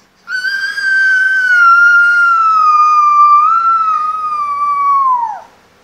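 A child imitates a fire engine siren with a single sustained, wailing vocal tone that holds loud and close for about five seconds, dips slightly midway, then falls away at the end.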